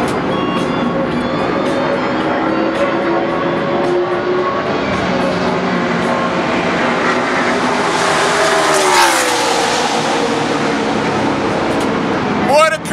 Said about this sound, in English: Take a look up the track and catch the cars as they're coming around the bend.